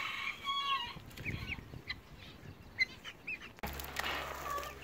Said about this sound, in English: The chickens have all run indoors because they don't know what's going on.